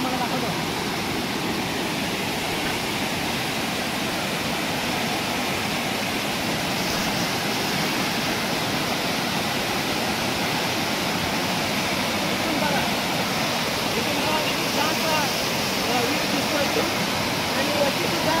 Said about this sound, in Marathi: नांद धबधबा खूपच सुंदर आहे